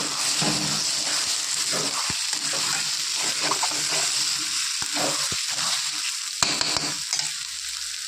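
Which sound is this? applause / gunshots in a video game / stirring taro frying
stirring taro frying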